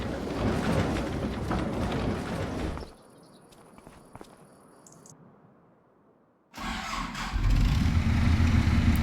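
A tractor in Farming Simulator 25, left standing for two weeks through cold nights, is being readied to spray a field. After a hush and a moment of silence, its engine catches on the first try and runs loud and steady.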